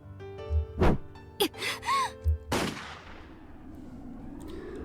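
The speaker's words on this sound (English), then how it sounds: "a gunshot rang out loud" Several sharp gunshots crack out amid dramatic sound effects and music in the Higurashi video game, the last blast loud and echoing before fading into a low rumble.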